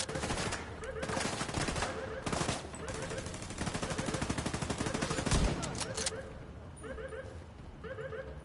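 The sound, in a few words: turret gunfire from the video game The Division 2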